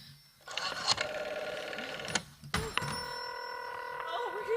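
An old-fashioned telephone bell rings in a radio drama, sounding in several loud, close bursts of sustained metallic ringing with short gaps, steady tones lingering toward the end.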